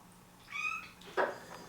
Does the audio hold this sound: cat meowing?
yes